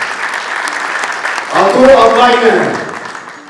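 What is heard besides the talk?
audience applause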